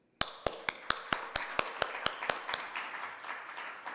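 An audience starts applauding with a few slow, separate claps. The claps speed up and blur into a thin, moderately quiet round of applause with no talk over it.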